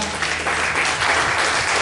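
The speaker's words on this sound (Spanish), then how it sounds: "¿Cuántos pueden aplaudir al Señor por su fidelidad?" Worshippers at a Spanish-language church service clap for the Lord, a short, loud and dense round of applause filling the room, with a low hum beneath it.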